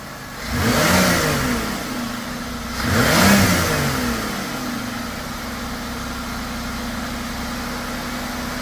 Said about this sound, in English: Willie, give it a couple revs with your hand.